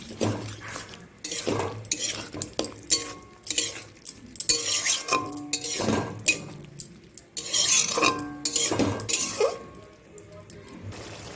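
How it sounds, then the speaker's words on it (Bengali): Vegetarian kohlrabi curry is stirred in a pan with a metal spoon, giving repeated close clinks and scrapes against the pan in irregular bursts, with occasional soft talking underneath. "এবার ভালো করে নাড়াচাড়া করে নেব।"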